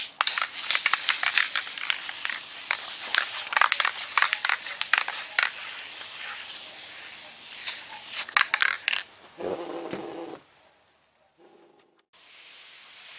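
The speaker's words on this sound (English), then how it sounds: "I'm going to spray some more spray on it." A spray can hisses in long, loud bursts onto a cracked dashboard being repaired with fiberglass in a third-generation IROC Z28, then stops, leaving short faint noises and near silence.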